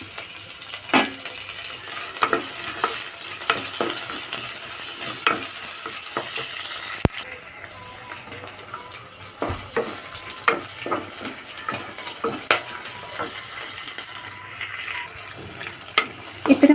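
Green chillies and curry leaves sizzle in hot oil in a pan, a steady close frying hiss broken by repeated stirring clinks and scrapes.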